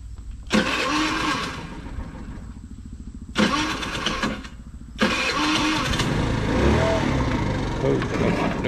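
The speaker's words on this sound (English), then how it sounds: "I gotta start the little scooter" A small scooter engine is cranked three times, with the first two attempts sputtering and dying. On the third try it catches and keeps running in a loud, close, rough idle.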